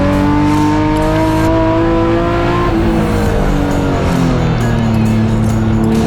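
BMW race cars in an M Performance Parts race series run on a circuit at an extreme motor festival. A loud, sustained engine drone rises and falls in pitch as the cars pass.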